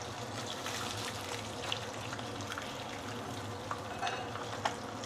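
Fish being lifted out of hot frying oil gives off a continuous soft sizzle with scattered small crackles and pops, close by and fairly quiet.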